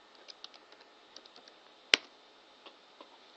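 Keys tap on a computer keyboard as a search is typed, light irregular clicks close by with one louder sharp keystroke in the middle, in a quiet room.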